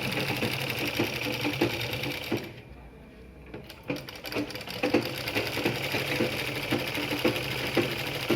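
A sewing machine stitches fabric for a homemade hair band, its rapid mechanical chatter running steadily and close, pausing briefly midway before resuming.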